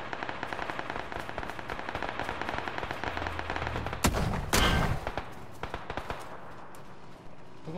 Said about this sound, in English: guy popping off with that fucking Winchester, man